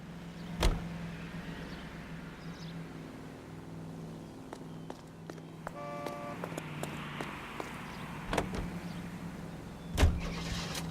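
A car in the video game L.A. Noire idles and rumbles steadily at low volume, with scattered clicks and several sharp thumps like doors or bumps, no talk over it.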